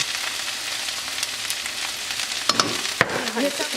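Okra with turmeric and crushed coriander is stirred gently in a frying pan, a steady close sizzle with a few soft spoon scrapes and knocks near the end, without talk.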